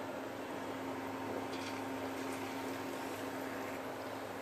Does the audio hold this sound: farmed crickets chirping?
no